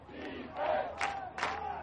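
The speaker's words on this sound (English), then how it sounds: "Let's get that defense cheer, ladies and gentlemen. Defense! Defense! Crowd cheering defense!" Football crowd at a night game chanting for the defense, a large mass of voices rising in repeated rhythmic shouts, a few seconds apart, heard from within the stands.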